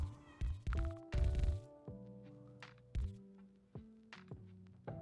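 A house cat meows loudly and close by, a string of drawn-out, insistent cries with a few dull thumps in between and near-silent pauses.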